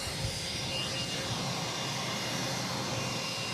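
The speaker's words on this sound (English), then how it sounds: "Next takeoff on 22 left, heading to SFO, San Francisco, United Airlines flight 1413. It's a 737 MAX 9." A United Airlines Boeing 737 MAX 9 takes off from runway 22 left at Boston Logan, producing a steady, broad jet engine roar at a moderate distance throughout, with no talk.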